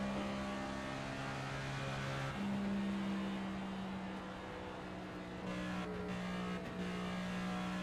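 NASCAR race car engine in the NASCAR 25 game, a steady droning whine whose pitch shifts as the throttle is lifted and eased through the turns, loud and continuous with no voices.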